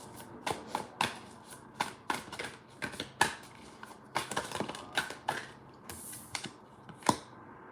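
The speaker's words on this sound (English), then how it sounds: "I'm just shuffling for you." Tarot cards riffled and shuffled by hand in a series of crisp, close flutters and taps, with short pauses between bursts.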